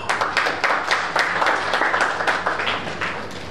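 Audience applause at a lecture event for students with special needs, steady dense clapping from a hall full of people, sustained and fairly loud throughout with rhythmic individual claps standing out.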